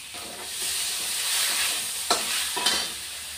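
Ginger and tomato paste hits a hot pan and fries with a soft, steady sizzle, punctuated by a couple of brief stirring scrapes.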